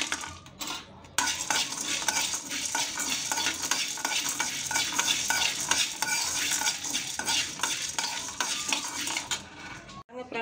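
Almonds and cashews are roasted in a pan, with a spoon or spatula stirring and scraping continuously against the metal. A light dry sizzle runs underneath and the stirring stops abruptly at the end.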